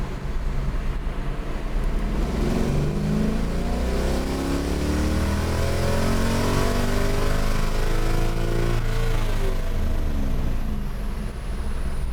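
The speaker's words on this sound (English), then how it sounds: "Get the car going in third gear." A tuned car with its ECU data-logging pulls hard in third gear, the engine note rising steadily and loud throughout with a constant roar and no voices.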